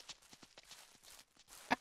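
Clip-clopping hooves of an old horse in the Ranch Simulator game, a quick run of light, evenly spaced footfalls ending in one louder thud, with no talking.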